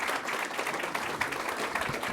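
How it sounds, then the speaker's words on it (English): A round of applause from the audience at a legal panel session, a fairly faint but steady wash of many hands clapping that lasts about two seconds with no talking over it. "Please join me in giving one more round of applause for all of our Panel 1 participants."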